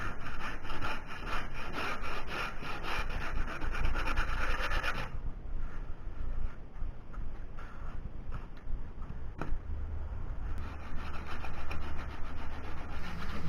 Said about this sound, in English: I'm going to sand each application of body filler all the way down to bare metal at the front edge of the quarter panel